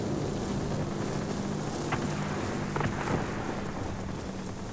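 A heavy thunderstorm in the World of Warplanes video game: dense, constant rain hiss fills the whole stretch, with a few low thunder rumbles and faint crackles rising out of it, and an aircraft drone underneath.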